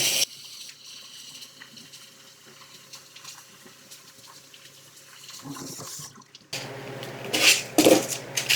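Cold tap water runs into a kitchen sink over pinto beans in a strainer, a soft steady flow that turns louder and splashier near the end.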